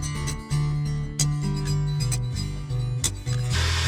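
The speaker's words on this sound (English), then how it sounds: "I'm going to deal with drilling all the holes in it for the switches" Drilling switch holes in a carbon fibre car interior panel: a drill's steady tonal whine in several bursts, pitch dropping under load as the bit bites, separated by short pauses and ending in a harsher grinding rasp.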